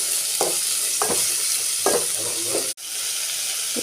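Spices for an oggarane tempering drop into hot oil and sizzle loudly and steadily up close, with short scraping stirs every half second or so and a brief cut near the end.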